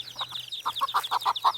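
A protective mother hen clucks in a quick, close series of short, throaty notes, growing louder toward the end, with high peeping from her chicks running continuously over a low steady hum.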